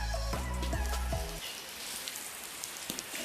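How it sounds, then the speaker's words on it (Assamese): Rain falling on a surface on a cold, wet day, a steady soft patter that continues alone after a brief harmonic musical tone fades out at the start. "ৰাতিপুৱাৰ পৰা বৰষুণ দি আছে"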